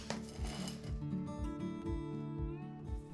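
A knife saws through the crisp crust of homemade bread, a series of dry crackling crunches in a rhythmic back-and-forth, close and fairly quiet.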